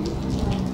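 Steady rain falling outdoors during a wet classic motorcycle show in Ayr, a continuous broadband hiss of drops on surfaces, with no talk.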